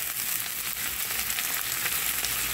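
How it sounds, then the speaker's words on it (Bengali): Onion, garlic and shrimp fry in a hot pan with a steady, dense sizzle that runs unbroken and close for the whole stretch, with no voices over it. "এখন বাদামি করে পেঁয়াজ রসুনটা একটু ভেজে নিব।"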